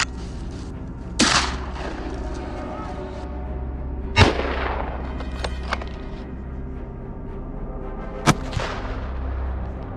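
Gunshots from a wild boar hunt in snowy hillside woods, three sharp loud reports spaced a few seconds apart, each trailing off in a rolling echo over a low steady background.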